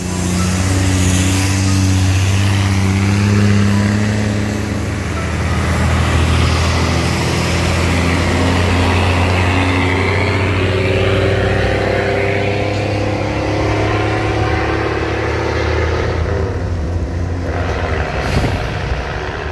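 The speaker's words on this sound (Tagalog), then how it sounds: "Daming truck na dumadaan, oh." Heavy trucks roll past close by on a road in a constant, loud stream of deep engine rumble and rising and falling drone, with hissing bursts that sound like air brakes.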